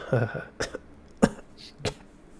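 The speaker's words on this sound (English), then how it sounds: "He grabs his throat and coughs a bit." A few short coughs, spaced out, close and fairly loud, with a bit of throat sound at the start and no talking.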